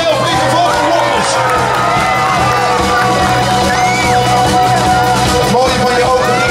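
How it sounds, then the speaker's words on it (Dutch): A crowd at an Efteling theme park show cheers loudly, with whoops, yells and shouting voices layered over a continuous close, boisterous roar. "Applaus voor jezelf, lieve vogelrokkers."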